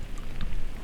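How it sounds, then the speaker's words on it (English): Rain falls outdoors during an archery hunt on public land in Maryland, a steady, dense hiss with soft pattering, brief and fairly loud, with no talk. "And as you can see, it's kind of raining right now."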